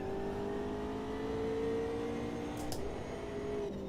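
Steady engine drone of a Caterham F1 car in the racing sim Automobilista 2, holding a fairly constant pitch with slight rises, soft and continuous in the background.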